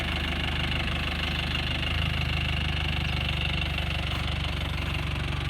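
A diesel engine of a 2001 Isuzu Dragon Eye pickup idling close by, a steady low rumble with a rhythmic knocking chatter, continuous and unchanging throughout.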